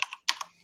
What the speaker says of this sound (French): Léonie, quand tu tapes, il faut que tu coupes ton micro parce qu'on n'entend que ton clavier.